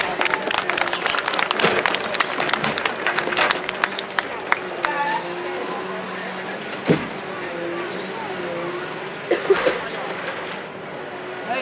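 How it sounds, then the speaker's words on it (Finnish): Applause and scattered clapping from a crowd outdoors at a timber loader championship in Jämsä, Finland, thinning into crowd noise and vehicle sounds with a voice over it. "te hyvä yleisö annatte aplodit tässä kohtaa ykkösauton Kai Sirenille"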